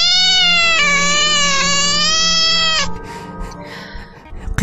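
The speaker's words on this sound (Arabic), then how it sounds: "داك المواء كان مزعج بالنسبة لي وكان كيخوف في نفس الوقت" A long, loud drawn-out cat meow wavers and swells for nearly three seconds, then breaks off into rustling and scattered knocks.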